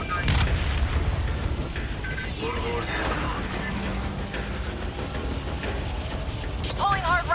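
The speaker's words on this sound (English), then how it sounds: "Missile away." Missile launch and gunfire in a flight combat video game, a heavy boom at the start followed by mechanical rumbles, whooshes and scattered bursts over a constant engine drone.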